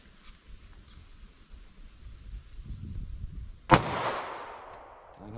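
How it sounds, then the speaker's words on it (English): A single sharp gunshot from a Sig Sauer subcompact pistol in .40 S&W, loud and close, its report trailing into a decaying echo after a stretch of quiet outdoor background. "Now our 40 Smith & Wesson here, we are rated at 985 feet per second."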